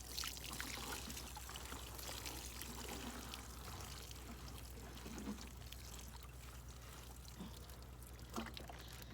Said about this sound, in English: I'm gonna water all around where I put them worm castings